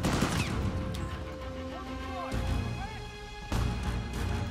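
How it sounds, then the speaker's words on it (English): Gunfire in Uncharted 4: A Thief's End, several sharp shots at moderate distance, one early and two more later, spaced irregularly amid a low rumbling backdrop. "Somebody was just shooting at me"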